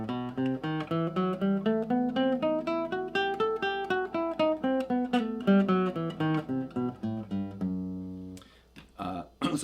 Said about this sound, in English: So this is a pattern in the harmonic minor scale.